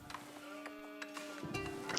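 Sheep bleating in an Age of Empires-style strategy game match, short bleats recurring a few times over steady game ambience and faint music tones.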